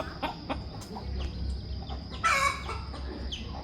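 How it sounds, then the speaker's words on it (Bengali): Chickens roosting in a tree at night in a village give soft, scattered clucks and one brief louder squawk, moderately near over a low background rumble. "এই যে সব মুরগিগুলো গাছে চলে গেছে এদের এখানেই বাসা রাতের বাসা"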